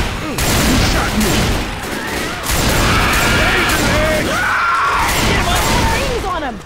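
Heavy gunfire in the zombie shooter Left 4 Dead 2, Dead Center level: loud, continuous overlapping volleys of shots and impacts fill the whole stretch, with shouting voices mixed in.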